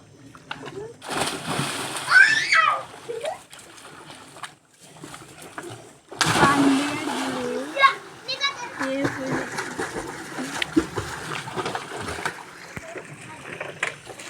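Children splashing and kicking their legs while swimming in village water, bursts of splatter and churning close by, separated by quieter gaps, with children and adults talking and calling throughout.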